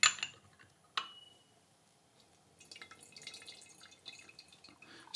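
Brewed Yan Cha oolong tea is poured away, leaving sparse water drips and a couple of sharp clinks from a porcelain gaiwan, followed by a softer splashing trickle, all close and quiet.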